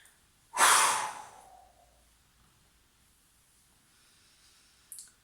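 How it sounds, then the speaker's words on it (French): A single forceful exhale during a sophrology breathing exercise, a close, loud breathy rush that fades out over about a second, followed by quiet and a brief small breath sound near the end. "J'expulse tout ça, il y a l'expire, je dégage tout."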